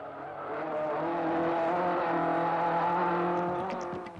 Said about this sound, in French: une Opel Ascona 400